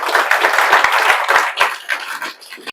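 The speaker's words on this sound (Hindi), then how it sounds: "तो इसके लिए आप लोग जोरदार ताली बजा दीजिए" Audience clapping for JEE Main toppers at a results celebration, a close, loud burst of hand claps with sharp individual slaps up front, thinning out and fading over a few seconds.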